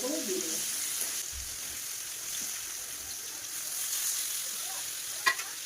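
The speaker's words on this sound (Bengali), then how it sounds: "একটু ভাজা ভাজা হয়ে গেলে এর মধ্যে মাছ দিয়ে দেবে" Steady close sizzle of hilsa fish frying in a pan, a constant hiss with faint stirring and a brief clatter near the end.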